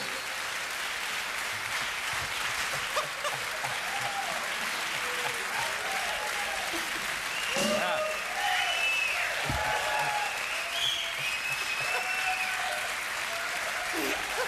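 A TV studio audience applauds organist Helmut Zerlett on a late-night show, steady sustained clapping filling the room, with a few voices and cheers rising over it midway.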